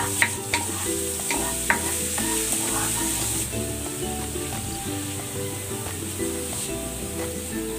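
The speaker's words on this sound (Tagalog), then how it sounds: "Igisa na natin itong bawang." Chopped garlic sautéing in hot cooking oil in a pan for a fish dish, a loud continuous close sizzle with occasional stirring clinks and scrapes, no voices.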